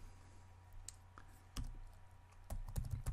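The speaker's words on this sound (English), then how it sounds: "If you start typing in keywords here," Keywords typed on a computer keyboard, a few quiet scattered key clicks that build into a short burst of faster typing at the end, close and alone in a quiet room.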